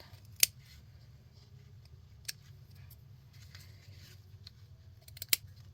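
Scissors snip through sari silk in a few quick, quiet cuts, one near the start and a pair near the end, over a soft low background hum with no voices.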